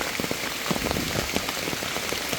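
Rain falling steadily in a dense, even hiss of drops on a surface, moderately loud and continuous throughout with no voices.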